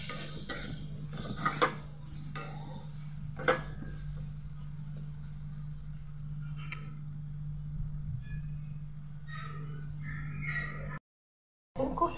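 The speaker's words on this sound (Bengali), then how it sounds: "কষিয়ে নেব আলুটাকে।" Potatoes with salt and spices are stir-fried in a pan for an egg and pumpkin dish, making a continuous gentle sizzle under a low hum, with occasional spatula scrapes and knocks.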